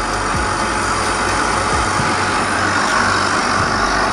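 Home-use hyperbaric chamber inflating after its valve is closed, a loud, steady rumbling pump drone with a broad airy hiss and low throbbing underneath, continuous throughout with no talking.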